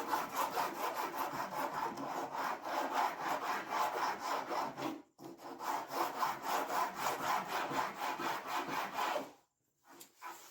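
Oak being hand-sawn across the grain for dresser drawer fronts: steady, rasping back-and-forth strokes in a close, continuous rhythm, with two brief pauses partway through.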